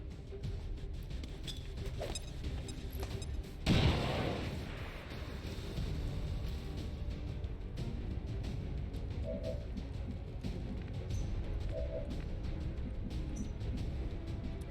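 A frag grenade goes off in XCOM 2 with a single muffled boom partway through, then a rumbling decay over quiet game ambience.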